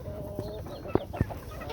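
Hens in an aviary clucking in short, scattered bursts, with a couple of sharper, louder calls standing out against a low, busy background of farmyard fowl.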